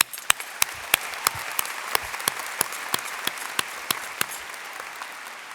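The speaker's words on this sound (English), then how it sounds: "You all deserve a round of applause too." Applause rings out from a crowd at a 2022 high school graduation ceremony, with dense steady clapping pierced by sharp, regularly spaced loud claps from someone nearby.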